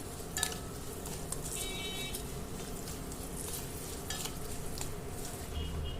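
Roasted gram and raisins frying in a pan over a low flame, a quiet, steady sizzle with occasional scrapes and light metallic taps of the spatula, close by.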